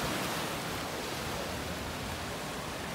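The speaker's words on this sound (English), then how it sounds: "sound of the waves." A constant broadband wash of surf noise, even and unbroken, like ocean waves heard close by.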